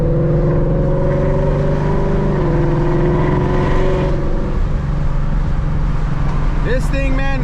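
A 2021 Ford Mustang GT on an E85 tune with full bolt-ons drives along with its engine and exhaust droning loud and steady from inside the car, the pitch easing slightly after a gear change, while someone talks over it.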